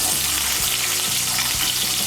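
Potato pieces frying in the oil left in the pan after fish, a steady close hiss and sizzle running without a break, with faint clinks underneath; no talking.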